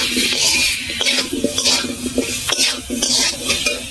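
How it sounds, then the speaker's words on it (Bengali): Potatoes fried and stirred in a pan with salt and turmeric, a spoon scraping and clinking against the metal in repeated strokes over a steady sizzle, close and fairly loud. "আলুটা নেড়ে চেড়ে ভালো করে ভাজবো"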